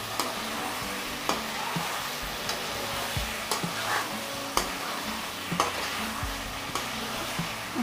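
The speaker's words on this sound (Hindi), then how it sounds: "इस तरीके से चलाते हुए इसे 2 मिनट तक भून लेंगे मसालों में" Sliced potatoes sizzle steadily in a spiced pan as a spoon stirs them, with scattered scraping knocks against the metal at irregular intervals, close and moderately loud with no talking.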